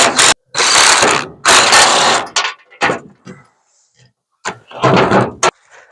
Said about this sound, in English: Let's get this steering stabilizer off